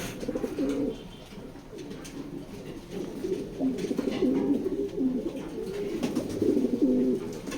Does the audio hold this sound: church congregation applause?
no